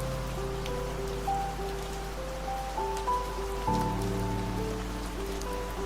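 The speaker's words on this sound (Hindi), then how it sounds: "बारिश रुकने का नाम नहीं ले रही थी" Steady rain patters over a constant low hum, with sustained tonal drones running through the background and no voices.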